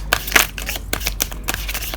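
Tarot cards shuffled by hand during a reading, a quick run of crisp riffling snaps and flicks, close and fairly loud with no talking.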